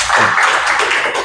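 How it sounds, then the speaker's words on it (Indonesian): Short burst of applause from a group in a classroom or lecture setting, dense clapping lasting about a second with no voices. "Beri tepuk tangan untuk kita semua"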